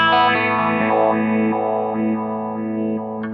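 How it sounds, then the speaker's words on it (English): A step phaser on a Harley Benton DNAfx GiT Pro multi-effects unit colours a sustained, distorted electric guitar chord, pulsing in choppy stepped sweeps, loud and steady with no voices. "We've also got step phaser."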